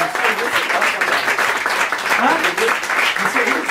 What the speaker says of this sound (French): On lui applaudit bien fort